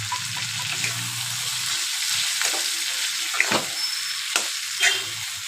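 Dried fish fries in a pan for a taro and dry fish curry, a steady close sizzle broken by a few stirring scrapes and light knocks.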